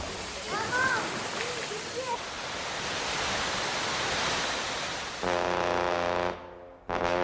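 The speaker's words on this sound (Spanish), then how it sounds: "Las relajantes cascadas caen sobre 3 piscinas a distintos niveles" Waterfalls in El Salvador pour into three natural pools at different levels, making a steady broadband rush that lasts throughout, with a voice and music audible over the water toward the end.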